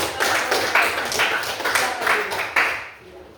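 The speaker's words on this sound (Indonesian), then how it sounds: "Jadi baik, kita beri aplaus dulu ya." A classroom audience applauds after group presentations, giving a steady burst of clapping with some chatter underneath. The clapping comes in broad waves and fades out near the end.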